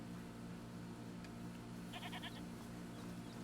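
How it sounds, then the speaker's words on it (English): Goat bleating in the video game A Plague Tale: Requiem: a short burst of quick, wavering bleats partway through, fairly faint over a steady low ambient hum. "is that the goat he talked about?"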